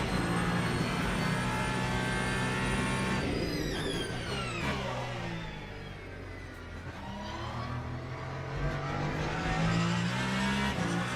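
A race car engine in the Le Mans Ultimate racing game roars loud and close, winding through gear changes, dropping in pitch while braking through a corner, then climbing again under acceleration.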